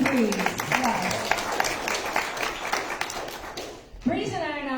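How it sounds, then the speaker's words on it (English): Audience at an art show awards ceremony applauding, with scattered claps and brief voices that fade out before a speaker resumes talking. "please applaud him"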